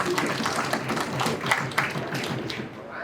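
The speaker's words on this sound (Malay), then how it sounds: "Bagilah satu tepukan." A crowd at a political party speech in Kedah gives a short burst of applause, scattered claps rising and fading quickly with some speech mixed in.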